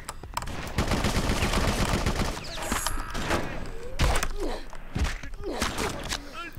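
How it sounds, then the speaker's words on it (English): Enemy gunfire in the BloodRayne video game, with sharp bursts of shots and thuds mixed with game effects, loud and close, followed by scattered impacts. "Yeah, just keep shooting me, wherever you are."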